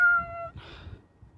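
A little kitty cat gives one clear, drawn-out meow that rings out alone and fairly close, followed by a softer, breathy tail and quiet room hum.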